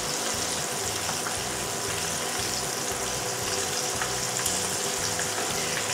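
Shrimp and calamari fry in hot oil with a steady, dense sizzle that runs unbroken from start to finish, close and fairly loud, with no voices over it.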